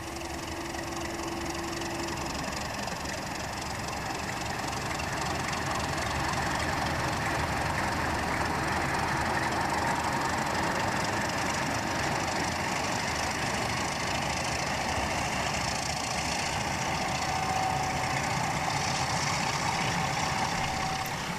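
A Lima OO gauge model locomotive hauls a train of pallet vans loaded with fertiliser and bagged agricultural goods, making a steady, continuous whirring rumble that stays loud and even throughout, with no speech.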